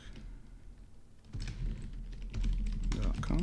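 A password is typed on a computer keyboard, with quick, close clusters of key clicks that grow louder and denser after a quieter opening.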